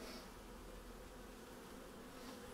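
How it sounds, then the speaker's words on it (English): Honey bees buzz around a hive frame in a dense, continuous drone, close but quiet, with no talking. "There's a big bunch of bees here."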